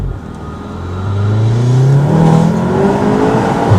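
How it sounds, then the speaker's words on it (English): An APR Stage 3+ tuned Golf R accelerates hard, its engine note rising steadily in pitch with turbo whoosh building over a loud, continuous roar, close and alone without talk. "hearing the intake, hearing the turbo spool up, and you're just gone"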